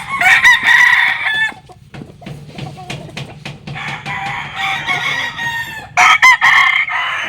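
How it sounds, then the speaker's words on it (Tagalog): Roosters crow loudly and repeatedly, several drawn-out calls close by, with clucking and scattered clicks between them. "Ipapakita ko lang itong mga manok."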